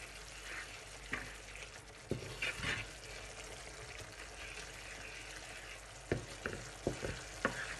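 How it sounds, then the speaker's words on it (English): Homemade tomato pizza sauce bubbling in a pot, a soft, quiet simmer with occasional louder spoon scrapes and knocks near the end as it is stirred. "so I'm just gonna let it boil, and I will just stir it"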